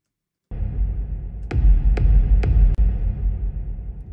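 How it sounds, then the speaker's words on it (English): A deep, booming techno kick drum sounds several times through a convolution reverb, a dense, sustained low wash filling the space between hits and trailing on long after. "We want to put a reverb on top of the kick to create the biggest kind of tail we can find."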